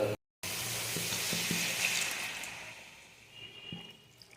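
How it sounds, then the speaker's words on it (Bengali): Water is poured into a sizzling pan of egg and potato curry, giving a loud hiss and splash that settles into softer bubbling. "এবার আমি পরিমাণ মতো জল দিয়ে দেবো"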